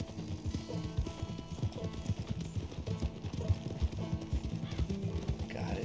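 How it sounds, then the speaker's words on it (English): Hooves of a galloping horse in the video game Red Dead Redemption 2 clip-clop in a steady fast rhythm, fairly quiet, with a brief whinny and game sounds around it. "Tapping A in time with your horse's gallop."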